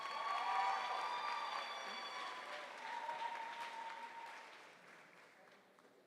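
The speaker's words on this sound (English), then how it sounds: "Let's give all of our graduates a huge round of applause." Graduates at the Mount Mary University 2024 spring commencement receive applause, a broad wash of clapping from a large crowd in a hall with a sustained tonal hum underneath, fading gradually toward the end.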